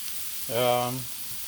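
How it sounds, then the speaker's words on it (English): Beef and mushroom burgers fry on a Blackstone griddle with a soft, steady sizzle throughout, briefly overlaid by a short voiced hum in the middle. "It's been exciting here, watching burgers cook."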